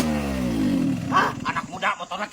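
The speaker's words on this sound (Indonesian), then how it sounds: "Dengekeun motor urang." A motorcycle engine revs and then winds down, its low roar dropping in pitch, before people start talking over a quieter idle.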